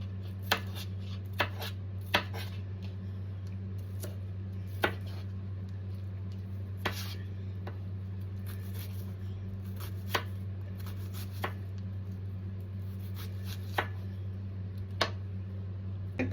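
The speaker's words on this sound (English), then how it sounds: "I just take these and cut them into tiny even pieces" A knife chopping onions into tiny even pieces on a board gives sparse, sharp taps at an irregular pace over a steady low hum, close but fairly quiet, with no voices.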